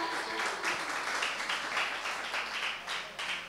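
An audience at a Kapurthala singing audition gives a burst of applause for the singer Prince, a dense, moderately quiet clatter of many hands with uneven swells lasting a few seconds.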